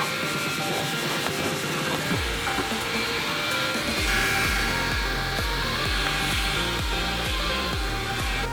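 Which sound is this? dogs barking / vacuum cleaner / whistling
vacuum cleaner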